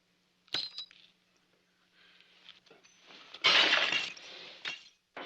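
Drinking glasses smash after a toast in an old regimental mess, with a sharp single crash near 0.5 s and a louder, longer shattering burst around 3.5 s, followed by scattered tinkling shards.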